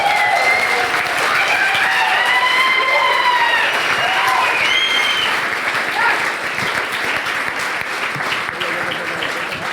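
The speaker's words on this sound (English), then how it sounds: "I would like you to give a big round of applause for my amazing teammates, Amel, who helped me presenting" A crowd at a coding bootcamp demo day in Berlin claps loudly and steadily while whoops and cheering voices rise over the applause, which gradually eases toward the end.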